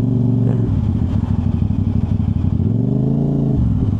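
A big motorcycle rumbles close by in a parking area at a Honda Big Bikes grand opening, its loud, throbbing idle rising briefly in a short rev and then settling, with no voices.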